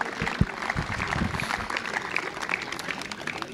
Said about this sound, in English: Ladies and gentlemen, please a big round of applause for our wonderful,